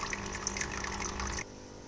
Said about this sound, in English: So now time to remove some more water and do water change.